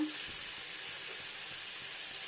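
Potatoes frying in a pan with spices, a continuous close sizzle and hiss with faint stirring scrapes underneath.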